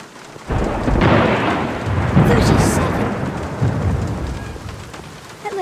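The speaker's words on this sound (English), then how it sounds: "Are you counting the thunder?" A thunderstorm in The Black Mirror video game: steady heavy rain hisses throughout while thunder rumbles and rolls, with a louder crack near the middle, no voices over it.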